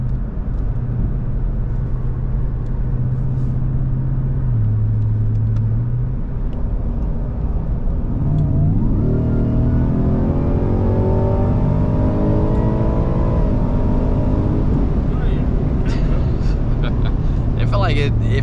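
A 2024 Ford Raptor R with a 10-speed transmission cruises, then its engine accelerates hard from inside the cabin, a low steady drone rising into a climbing roar through the gears, with people talking over it.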